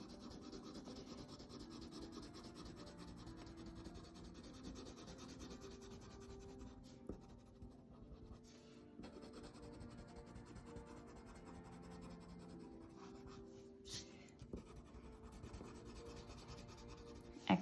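A pencil colours lightly across paper in one direction while drawing a bear, a steady soft rubbing scratch that continues for the whole stretch, close and quiet with no voices.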